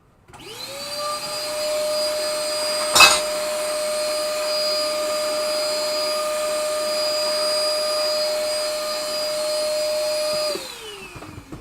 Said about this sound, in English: Let's vacuum that off.